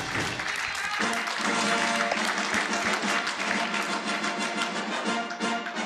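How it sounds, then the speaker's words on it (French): Sustained applause from an audience at a storytelling performance, steady and fairly loud throughout, with brief tones of music or voice near the start. "Sous vos applaudissements"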